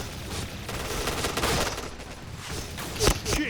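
Rapid HK-416 assault rifle bursts in the Point Blank shooter game, dense repeated gunfire filling the whole stretch with a sharper shot near the end.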